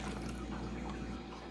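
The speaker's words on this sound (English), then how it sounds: "we're going to start by adding hydrogen peroxide into a water bottle" Hydrogen peroxide pours into a plastic water bottle in a continuous close liquid trickle, steady and unbroken over a low background hum, with no speech.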